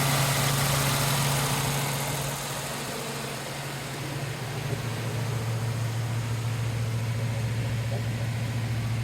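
A 1932 Ford Tudor sedan's flathead engine with a single downdraft carburetor idles steadily at close range, giving a smooth, even low rumble with a constant hum and no talk.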